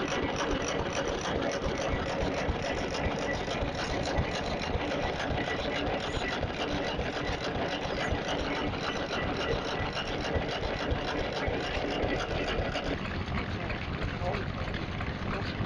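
Vintage 4 horsepower petrol-paraffin stationary engine driving a large water pump at a vintage rally, a steady continuous chugging run throughout, close and fairly loud with dense mechanical clatter.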